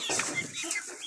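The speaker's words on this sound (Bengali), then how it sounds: "এই যে মুরগিগুলো দেখছেন, এখানে লাইট কালার রয়েছে" Young Colombian Brahma chickens in light and buff colours, about four months old, cluck softly in a close, continuous flock murmur with scattered brief calls.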